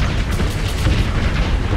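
A main cannon fires in Starsector Nexerelin, a loud, dense booming barrage of rumbling blasts that fills the space with no pauses.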